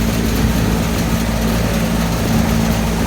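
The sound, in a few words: old Trane HVAC unit compressor running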